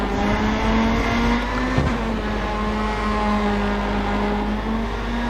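Race car in GRID Autosport, with a steady, loud engine drone holding a sustained pitch, plus a brief knock partway through and no talk over it.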